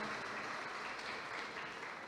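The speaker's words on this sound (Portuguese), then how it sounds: "Uma salva de palmas a Lecirene," An audience at a Guanambi business awards evening claps for a woman being introduced, a soft, even patter of many hands heard from some distance, with no voices over it.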